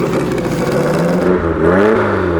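An off-road vehicle on a Baja trip revs its engine close by, a loud droning growl that climbs in pitch near the end.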